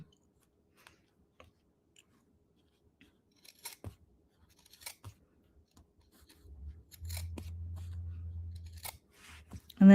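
Scissors snip through rag quilt fabric in sparse, crisp clicks spread over several seconds, followed by a low steady hum and a cluster of quicker snips, all fairly quiet and close.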